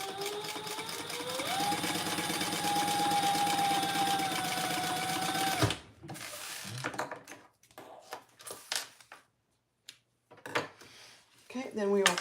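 A home sewing machine stitches fabric with a fast, steady mechanical whir that rises slightly in pitch and runs for several seconds before stopping abruptly, followed by scattered handling clicks and soft rustling of the material.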